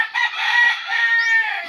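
A loud, close rooster crows once, a long drawn-out call with a rising then sustained tone, with no talking.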